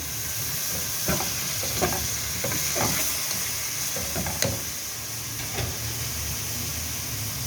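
Green chillies go into keema and bitter gourd frying in a pan, a steady close sizzle and hiss with scattered stirring clatters and clicks throughout.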